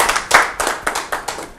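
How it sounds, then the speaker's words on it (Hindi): Applause at a Rajasthan Parishad gathering, a short burst of hand clapping with a few distinct claps, close and fairly loud, fading quickly. "कुछ जोरदार ताली हो जाएगी।"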